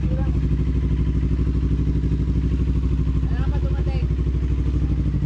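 A motorcycle engine idles steadily and close by with a constant pulsing rumble while the bike is parked at a carwash in Longos, Malabon City, and people talk over it.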